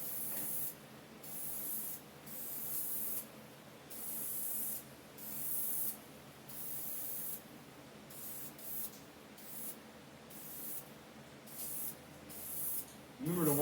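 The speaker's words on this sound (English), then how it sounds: "Let's go ahead and try to do us a good full coat on the whole bezel." Aerosol spray paint hisses in repeated short bursts onto a Mustang SVT Cobra gauge bezel, each pass a second or so long with brief pauses between, close and clear with no talk.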